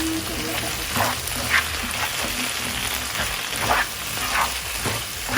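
Chicken chow mein being stir-fried with spring onion mixed in, a steady sizzle under repeated scraping and tossing strokes, close and fairly loud throughout.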